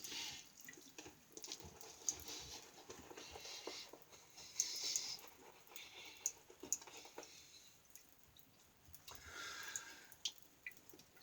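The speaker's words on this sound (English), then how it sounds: "Get the water into it." Water trickles and drips into a bowl of shaving lather during a wet shave with a vintage United Safety Razor set, faint splashes and a few sharp drips scattered over a quiet background.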